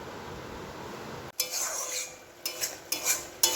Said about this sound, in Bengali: আমার শাক ভাজা হচ্ছে